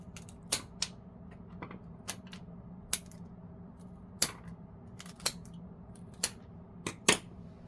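Florist's scissors snip flower stems for a bouquet of roses and baby's breath, a series of about a dozen sharp, crisp clicks spaced irregularly against a quiet room.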